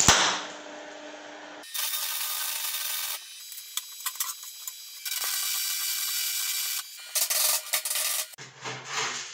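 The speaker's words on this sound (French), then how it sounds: "Et on soude." Arc welding joins a steel bar to a hinge for a wooden shutter, producing loud crackling hiss in several distinct bursts of a second or two each, separated by near-silent pauses, with no voices.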